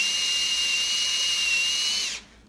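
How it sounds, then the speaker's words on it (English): A power drill whines steadily at a high pitch as it bores into a rustic euro mount, running for about two seconds and then abruptly stopping. "basically find a point above the mount, and we're just drill that in on an angle"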